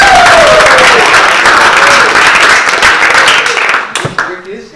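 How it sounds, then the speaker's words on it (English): Loud crowd applause and cheering rise at a school improv comedy night, a dense roar of clapping that holds for about four seconds before thinning into a few scattered claps. "Round of applause for Rick."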